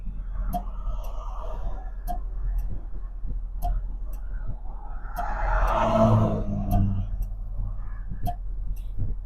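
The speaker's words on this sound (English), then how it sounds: "She's idling very nicely." A 1967 Lincoln's engine idles from inside the car: a steady low rumble with a regular clicking tick over it, and a brief swell in the middle.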